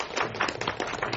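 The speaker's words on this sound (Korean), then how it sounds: "박수 부탁드립니다." A brief burst of steady, fairly loud applause from a film festival audience clapping for the camera director and on-set editing staff at a short-film screening Q&A.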